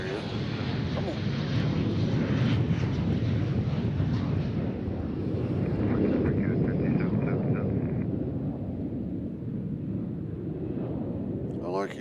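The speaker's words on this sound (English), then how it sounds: "Our next one is Delta going to LaGuardia, Embraer E175LR." A Delta Embraer E175LR jet takes off at Nashville International Airport, producing a loud, sustained broadband engine roar that fades slightly toward the end, with a voice talking over it.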